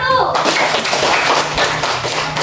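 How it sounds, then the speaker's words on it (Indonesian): Classroom applause for a presenting student group: a loud, continuous wash of clapping from many hands that fills the whole stretch, with background voices mixed in. "Beri aplaus untuk kelompok 1."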